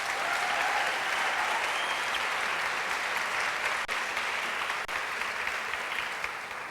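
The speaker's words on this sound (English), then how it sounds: "I just want us to give one huge round of applause to Laura and Karen." Audience applause at a convention session, a steady dense wash of clapping hands that continues evenly throughout, moderately distant and without any talk over it.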